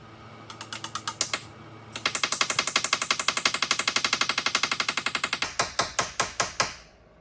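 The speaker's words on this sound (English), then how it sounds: "About to squirt some lubrication down in here and try it, hammer those out again." Rapid, evenly spaced metal hammer strikes ring out in a long close run, followed by a few slower, heavier blows, driving out corroded, lubricated door hinge liners on a Jeep Wrangler.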